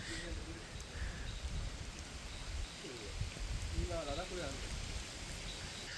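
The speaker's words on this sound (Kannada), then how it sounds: "ಈಗ ಮಳೆ ಬಂದು ಬಿಟ್ಟಿತ್ತು." Steady rain patters on surfaces at a jungle campsite in Coorg, a constant soft hiss, with a few faint bird coos and distant voices.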